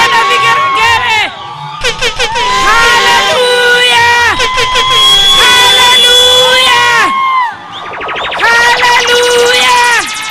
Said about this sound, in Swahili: Wapi shangwe na vigelegele?